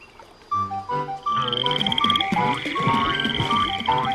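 Frogs or toads croak in a loud, layered chorus, with rapid repeated calls overlapping and building into a dense, continuous racket.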